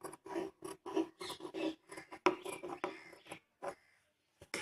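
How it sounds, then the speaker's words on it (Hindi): Scissors snipping fabric for a long double-layer kurti, a series of short close crisp cuts in quick bursts with brief pauses, with no talking. "उसके बाद में हमें हल्के हल्के इसमें कट लगाने हैं"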